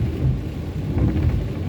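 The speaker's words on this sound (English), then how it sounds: "Oh, the rain's coming down a lot stronger now." Heavy rain comes down steadily in an outdoor street setting by the historic buildings of Muizenberg in Cape Town. It makes a dense, continuous low roar with no speech.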